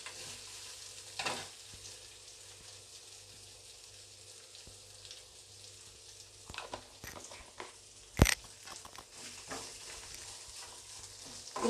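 Tempering seeds, peanuts, green and dry chillies and curry leaves fry in oil for lemon rice, giving a soft steady sizzle with a few stirring clinks and one sharp knock, fairly faint and close.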